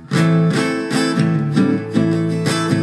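Acoustic guitar strums the chords of a song in a steady rhythm, with quick hammered-on notes ringing between the strums, played close and clear without any talking.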